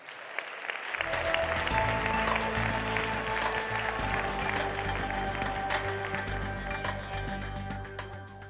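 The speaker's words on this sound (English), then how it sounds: "Let's give her a round of applause." An audience at a 2015 conference session in Manila breaks into applause to welcome the moderator, a warm burst of clapping starting after a second of quiet, then holding steady and slowly thinning out.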